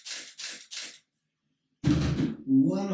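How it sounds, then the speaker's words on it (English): A camera shutter clicks three times in quick, even succession, crisp and close, followed after a short pause by a voice starting to speak. "One of the things that is responsible for this noise is the shutter opening"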